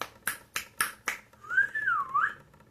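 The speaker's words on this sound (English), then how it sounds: "just feel like whistling and snapping" A person snaps their fingers four times in a steady rhythm, then whistles a short rising and falling tune, close and fairly quiet with no talking.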